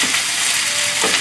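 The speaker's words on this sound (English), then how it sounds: "Since the fern tofu is easy to pan fry like this." Tofu pan-frying for pad thai, a steady broadband sizzle of oil in a hot pan running evenly throughout, close and moderately loud with no voices.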